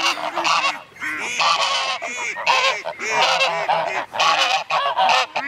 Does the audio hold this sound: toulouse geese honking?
yes